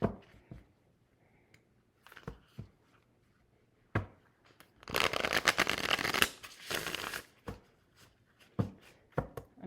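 Tarot cards shuffled in a long riffling burst midway, surrounded by scattered taps and clicks of handling; close and fairly quiet, with no talking.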